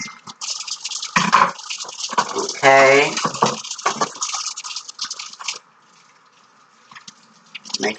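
Hot tap water runs as hand-washed dishes are rinsed in a kitchen sink, a steady splashing stream with drips mostly under close talking, briefly heard more clearly once the voice stops.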